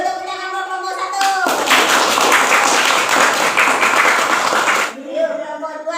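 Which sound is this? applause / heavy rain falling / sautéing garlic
applause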